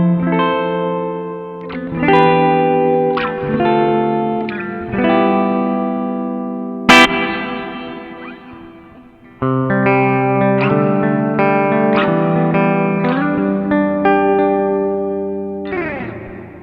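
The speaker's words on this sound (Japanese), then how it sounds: "すごい部屋の広がりがあるような深い残響を得ることができます。" Guitar played through the hall reverb mode of a BOSS RV-6 reverb pedal: chords and picked notes ring out with a deep, spacious wash that lingers between phrases, with a brief sharp click midway and a short pause before playing resumes.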